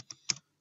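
A few quick keystrokes on a computer keyboard, two or three close, crisp clicks in under half a second, followed by silence.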